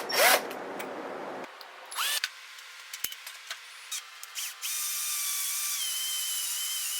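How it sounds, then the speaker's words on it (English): A wire wheel on a power tool strips surface rust from an axe head, with a few short bursts and scattered clicks before the tool settles into a steady high whine that continues to the end. "I'm going to have to get the surface rust off of this axe. And I think I'm going to use this wire wheel."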